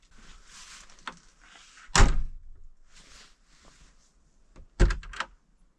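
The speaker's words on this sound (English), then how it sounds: "Does the door even close anymore?" Two heavy door slams land about three seconds apart, loud and close, with quiet rustling and handling noise between them.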